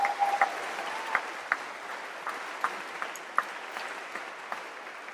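Sixth-form chapel audience applauding at a school's final chapel service, a soft, even wash of distant clapping in a reverberant space with a few sharper individual claps standing out.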